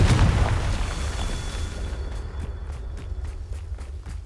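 Confringo fire spell explosions in the video game Hogwarts Legacy: a loud, deep blast at the start that rumbles off, then a steady run of quick, sharp cracks and thumps on top of a low, continuous background drone.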